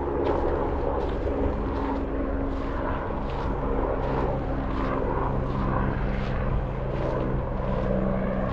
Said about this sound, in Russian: Летит вертолет.